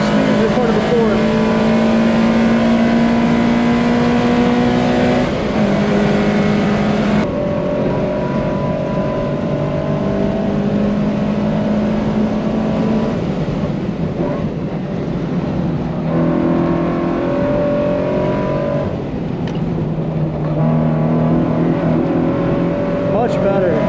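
A Subaru BRZ lapping Pocono Raceway in a track day, its engine droning loud and steady through repeated upshifts and rising revs, with brief dips as it brakes into corners and no voices.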